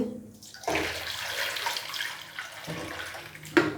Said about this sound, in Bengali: এরপরে দেব হালকা গরম পানি